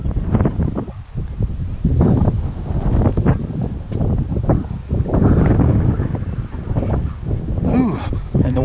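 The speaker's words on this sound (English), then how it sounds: "And the wind is strong." Strong wind buffeting the microphone outdoors at Garden of the Gods in Colorado Springs, a loud, continuous low roar that surges and eases in gusts throughout.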